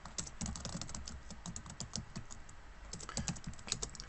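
Quick bursts of clicking keys on a computer keyboard as a Linux command is typed at a terminal, close and fairly quiet, with brief pauses between runs of keystrokes and no talk.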